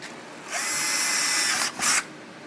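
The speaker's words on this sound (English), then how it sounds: "we're going to drill a little hole right here" A power drill whines steadily for about a second, pauses briefly, then gives a short final burst, close and fairly loud, drilling a small hole for winch cables.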